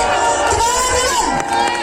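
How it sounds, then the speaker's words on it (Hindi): A stage-show audience cheers at an award presentation, loud and continuous, with voices shouting and whooping over a steady roar of crowd noise. "सब प्लीज एक बार जोरदार तालियां दीजिए सभी की तरफ से।"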